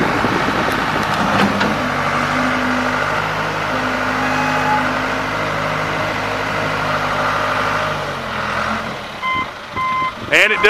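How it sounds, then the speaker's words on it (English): Backup alarm on a 1996 John Deere 310D backhoe, steady repeated beeping over the rumble of the idling diesel engine, close and fairly loud, with a voice briefly audible in the background. "it does have backup alarm"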